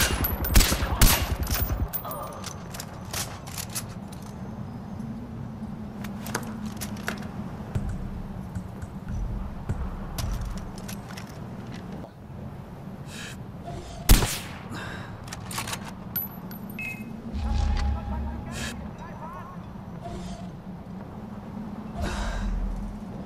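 Weapon fire from the player's gun in the shooter game Far Cry 4, scattered bursts of shots spread across a steady low background, with occasional sharp louder cracks, heavy breathing and keyboard clicks.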